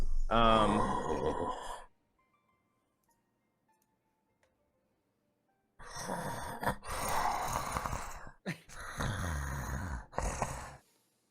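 A voice imitates heavy, raspy breathing in long, loud exhales, separated by several seconds of near silence.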